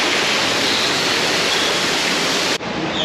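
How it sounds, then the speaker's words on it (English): Waterfalls along the San Antonio Riverwalk in Texas pour with a loud, dense, unbroken hiss and roar of cascading water, very close, steady for the whole stretch. "We got waterfalls."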